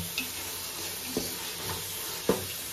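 Ginger paste sizzles in hot oil for chicken biryani, a close, even frying hiss broken by a few soft stirring scrapes or pops, with no voices.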